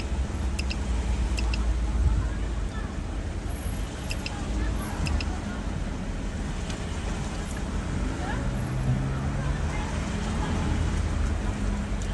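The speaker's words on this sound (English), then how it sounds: "A little bit of traffic. Friday night. It's a busy night." Steady road traffic rumbles on a busy Friday night near a mosque, with passing cars and buses forming a continuous broadband wash and brief air-brake hisses rising now and then.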